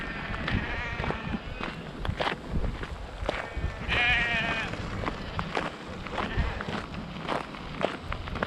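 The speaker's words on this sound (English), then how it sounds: "Oh, we've got to go and walk through the sheep now." Sheep bleat repeatedly at close to mid range along a riverside walking route, several calls overlapping with footsteps and outdoor rustle, with occasional voices talking quietly.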